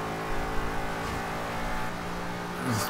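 A 2005 Ford GT supercar engine in the racing game Forza Horizon 2 drones steadily at a constant pitch, with a brief rising rev near the end and no talk.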